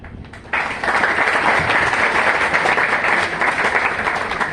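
After a brief quieter moment, an audience at a Hindi lecture breaks into loud, continuous applause that holds steady to the end.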